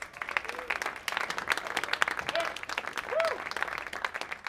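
A crowd at a music interview event applauds as band members are brought out, a steady fairly faint wash of clapping with brief vocal whoops over it.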